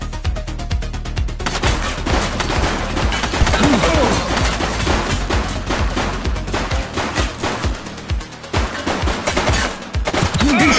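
Rapid bursts of gunfire from the police game The Precinct ring out loud and dense throughout, with overlapping shots and heavy low impacts and no pauses, backed by a steady game soundscape.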